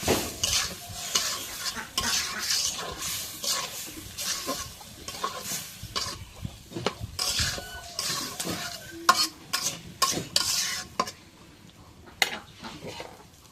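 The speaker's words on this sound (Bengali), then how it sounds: "এখন একটু জিরা বাটা রসুন দিয়ে দিবি। এখন একটু নাড়া দিবি।" Cumin and garlic paste being stirred into leafy greens frying in a pot, with repeated scraping and clanking of a spoon against the metal over a constant sizzle, in busy irregular bursts.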